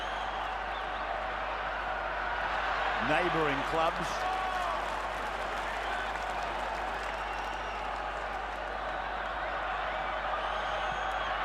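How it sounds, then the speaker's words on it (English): Large crowd at a 1999 NRL rugby league preliminary final between St George Illawarra and Cronulla, a steady broad roar of applause and cheering filling the stadium throughout, with a commentator talking over it. "Encouraged by a big crowd."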